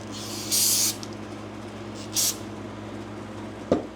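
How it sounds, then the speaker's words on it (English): Brake cleaner sprayed onto rusty, oily John Deere combine bolts: two short, loud hissing bursts over a steady low shop hum, followed by a faint sharp click. "This is just brake clean I'm using."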